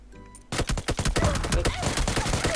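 Rapid bursts of gunfire from the battle royale game PUBG Lite, a string of loud, close sharp shots in quick succession after a brief quieter lead-in, with no talking.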